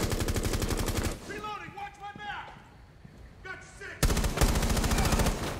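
Rapid automatic gunfire in the Rainbow Six Siege beta during a Lone Wolf match against AI enemies, with two loud, fast bursts separated by a quieter stretch of softer in-game sounds.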